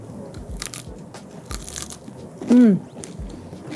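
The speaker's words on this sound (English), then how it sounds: "Listen to that crunch." A crispy fried chicken wing is bitten into, giving one short, loud crunch up close over low background noise.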